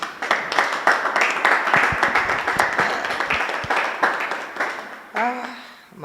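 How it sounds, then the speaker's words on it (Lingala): A church congregation at a worship gathering applauds with dense, steady clapping that fades toward the end, when a voice is heard. "Est-ce que tu veux qu'on acclame un peu?"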